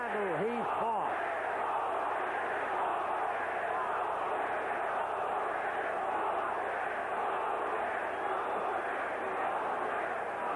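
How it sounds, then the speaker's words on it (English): Boxing arena crowd at a heavyweight fight roars in a continuous loud wash of cheering and shouting, steady throughout, with an announcer's voice briefly rising over it at the start. "You've heard the crowd."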